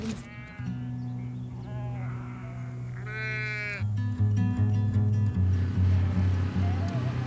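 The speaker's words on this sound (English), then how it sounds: "the hill sheep, so this is their home" Hill sheep on a Scottish hill farm bleating several times, close and clear, with a few wavering calls over a steady low background hum.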